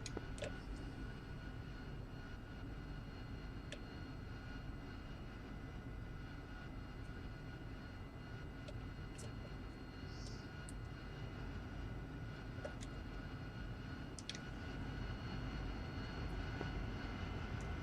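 In a flight simulation game, a jet engine spools up on the runway ahead of takeoff, producing a steady, dense roar and whine that holds constant throughout, with faint scattered clicks and blips over it.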